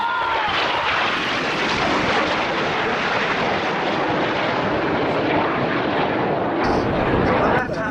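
Red Arrows jets in formation roar past at an air show, a loud sustained broadband rush from start to finish with no break.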